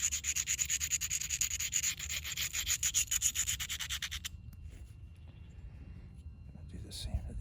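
A slab of agatized coral spearpoint is rubbed along its edge with grit, making a close, rhythmic scraping rasp of quick strokes that stops abruptly, followed by near quiet.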